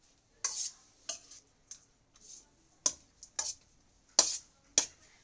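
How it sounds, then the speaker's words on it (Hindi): Lemon rice is stirred in a pot with a series of separate scraping, clinking strokes, roughly one every half second, close and clear against near silence. "अब हम इसे एक बार हिला देते हैं अच्छे से।"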